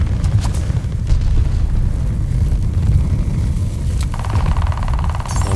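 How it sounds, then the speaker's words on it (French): A grenade goes off in the shooter game Call of Duty Vanguard, a heavy, booming blast followed by a dense low rumble that lingers for several seconds, with no talking over it. "Grenade."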